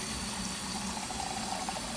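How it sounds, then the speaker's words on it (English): Water pours steadily into a soup pot for chicken soup, a continuous close splashing and filling sound that holds at an even level throughout, with no voices. "then what I'm going to do is put 4 cups of water"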